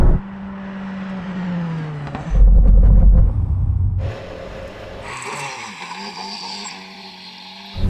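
Bentley Speed 8 Le Mans race car and Bentley Continental GT Speed under hard braking from about 100 on a test run: loud engine and road roar that swells, drops to a low rumble, then returns with higher whine and tyre noise.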